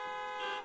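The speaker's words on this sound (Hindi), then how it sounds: "ये बार बार हॉर्न क्यों बजा रहे हो?" A car horn sounds in city traffic at a signal, one steady sustained honk held close and clear, with no talk over it.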